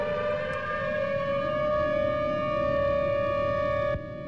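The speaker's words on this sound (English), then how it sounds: "Sirens are up." A steady, droning tornado-warning siren in Minecraft wails continuously at high volume, a sustained warning tone that drops slightly just before the end.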